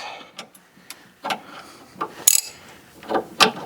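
Bolts on a 2006 Toyota Matrix steering knuckle being snugged down by hand, giving sparse, close metallic ratchet clicks and taps with quiet gaps between them.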